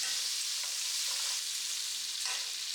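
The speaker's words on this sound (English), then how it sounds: "I'm going to add a few cloves of chopped garlic and 1 diced onion. Saute that until they get translucent and fragrant." Chopped garlic and diced onion sautéing in a hot pan, a steady bright sizzle with soft stirring scrapes now and then, close and even, with nobody talking.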